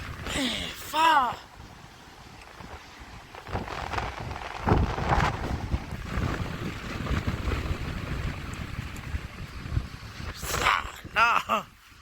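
Violent gusts of roughly 70 to 90 km/h rushing through trees, a sustained loud roar with heavy buffeting on the microphone, broken by short spoken exclamations at the start and near the end.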